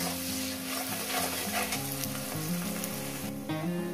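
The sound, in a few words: onions frying in a pan on medium gas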